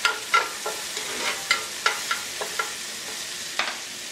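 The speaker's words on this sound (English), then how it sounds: "Give that a little stir." A medium diced onion being stirred in a pot for Caribbean coconut chicken, with a steady scrape-and-clatter of stirring strokes over a faint sizzle, close and alone.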